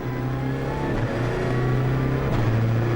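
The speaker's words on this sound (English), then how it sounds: "Listen to the quiet diesel." A diesel touring car in the 2008 British Touring Car Championship accelerates out of a corner, its engine drone steady and loud, with a low rising hum and other race cars in the background.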